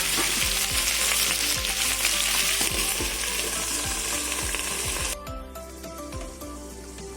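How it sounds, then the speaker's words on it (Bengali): Malabar spinach frying in a pan with fish head, a dense continuous sizzle with repeated soft knocks, dropping quieter near the end as the lid goes on. "এবার সবজিটা ঢেকে ঢেকে ভেজে নেব"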